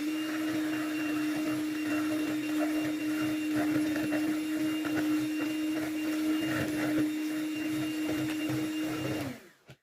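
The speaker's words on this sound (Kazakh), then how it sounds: "Барлық жұмыртқаларды маргариннің үстіне салып, шекер үшеуін тағы да 1-2 миксермен айналдырып алатын боламыз" Electric hand mixer beating eggs, margarine and sugar for waffle batter, a steady loud motor whine with whirring and rattling in the bowl throughout, stopping abruptly at the end.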